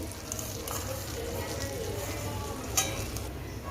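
Sev sizzling and frying in melted butter in a pan, a steady close crackle with faint stirring clinks, one brief louder scrape near the end.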